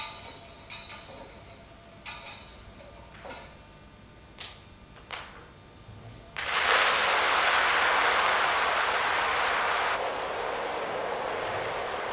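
Rain begins falling in a garden at dusk, a few scattered ticks and drips giving way to a sudden steady hiss of rainfall that stays loud, then eases slightly near the end.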